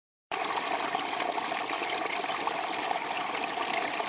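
Steady, close flow of water trickling and rushing through rushes and moss on the upper River Roeburn, a continuous broadband wash that starts abruptly and holds even.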